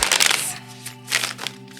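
A tarot card deck is shuffled once, giving brief papery riffling and crinkling bursts over a faint steady hum, close and fairly loud.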